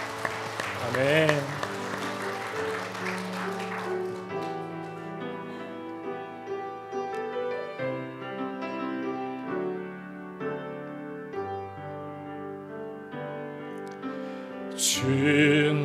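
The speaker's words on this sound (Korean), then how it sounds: "우리 하나님께 영광의 박수 드리겠습니다" A church congregation claps during a Korean Sunday worship service, with the applause blending into organ-backed hymn music and singing, strongest at the start and swelling again near the end.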